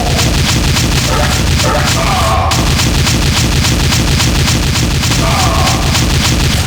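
An automatic shotgun fires in the CUBE mod for Doom 2. Heavy, booming blasts repeat in a fast, relentless rhythm, loud and close, over a saturated wall of game noise.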